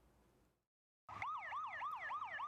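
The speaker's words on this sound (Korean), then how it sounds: "도심 속 사이렌 소리가 울려 퍼지고" After a brief silence, a loud wailing siren starts abruptly in a city, its pitch rising and falling in quick regular cycles, close and continuous, during an army counter-terrorism drill.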